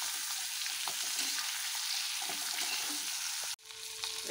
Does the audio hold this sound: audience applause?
no